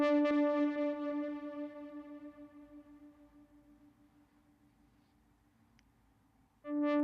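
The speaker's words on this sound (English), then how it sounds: "a synth pad, a soft synth pad that sounds like this." A single held note from a soft FM8 synth pad sounds alone, bright and smooth at first and slowly decaying to near silence before the same tone swells back in at the end.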